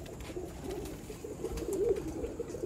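Pure Sialkoti pigeons coo softly in a breeder's loft, low throaty calls repeating faintly against a quiet background.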